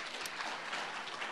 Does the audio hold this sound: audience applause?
yes